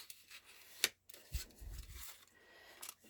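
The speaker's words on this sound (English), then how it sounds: "you're going to go to that crease, and then you're just going to fold this page down." Origami paper folded down along a crease for a box, heard as a few soft close crinkles and rubs with a sharp crisp snap, quiet and isolated with no talking.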